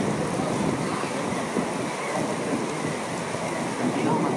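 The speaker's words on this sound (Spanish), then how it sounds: "vio cómo llueve bonito" Rain falls steadily during the first rain in Chihuahua, a broad close wash of noise with gusts of wind mixed in, continuous across the whole stretch.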